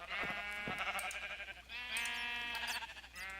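Several sheep bleat in a Minecraft wool farm, wavering cries following one another up close, with no talk over them.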